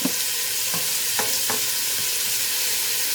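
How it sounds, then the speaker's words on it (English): Bacon pieces fry in a pan over medium-low heat, rendering fat, with a steady dense sizzle throughout and a few soft clicks of stirring. "now we're going to let them cook for a bit to render out their fat"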